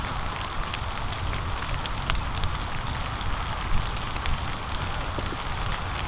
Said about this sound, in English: A bit slippery with this rain.